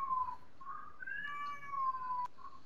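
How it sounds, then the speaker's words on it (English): A cat meows several times in a row, drawn-out wavering cries with a whiny, caterwauling edge, fairly close and clear against a quiet room background with no talking. "you hear that cat."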